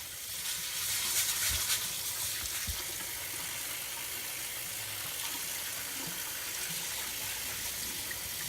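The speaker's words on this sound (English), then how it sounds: "what I'm showing here is washing it with the strainer" Rice for congee is rinsed in a strainer under a running tap, a steady close hiss of flowing water with soft splashing and a few brief clunks, no voices.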